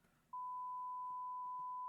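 A censor beep cuts in sharply after a brief quiet moment: a single steady pure tone held continuously to the end, loud against faint background.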